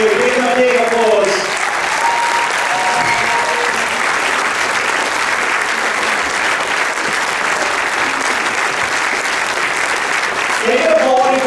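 A live audience at a Q&A event bursts into loud, sustained applause that holds steady for several seconds, with brief voices heard at the start and end.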